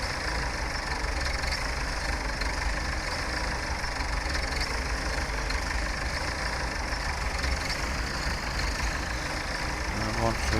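Tractor engine in Farming Simulator 17 running steadily at close range, a continuous rumbling drone with a gritty mechanical texture and no breaks, loud throughout.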